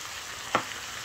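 Beef keema with masala frying in a pan, a steady soft sizzle with one brief louder scrape or stir in the middle, close and alone.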